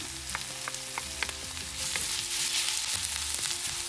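Onions sauté in a pan for Kerala-style beetroot pachadi, a steady close sizzle with occasional stirring scrapes and light taps, and no voices.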